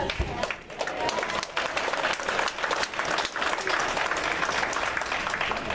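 An audience at a Berks County candidates night breaks into sustained applause from many hands, loud and continuous, with some crowd voices mixed into the clapping.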